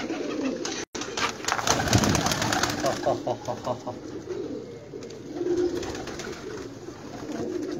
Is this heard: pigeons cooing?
yes